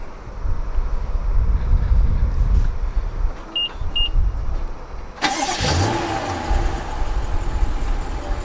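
A 2018 BMW 550i starting up by remote key, a sudden broadband surge as the engine catches, then a steady idle over constant outdoor wind noise, with two short electronic chirps just before.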